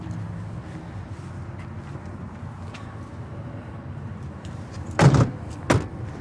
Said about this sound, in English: I'm going to go ahead and close up these doors.